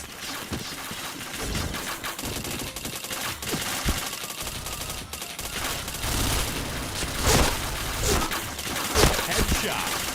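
Bursts of rapid gunfire from a video game shooter crackle in quick, uneven volleys, with sharper single shots standing out among the steady clatter.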